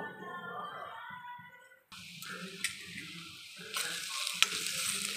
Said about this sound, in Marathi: मस्त अशी परतून घ्यायची बरं काही लाल मिरची तेलामध्ये